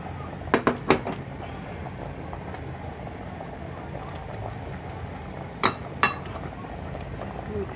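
Vegetables stirred in a cooking pot of kare kare with pig feet: a few sharp metallic clinks of a utensil against the pot in two short clusters, under steady background noise, with people talking.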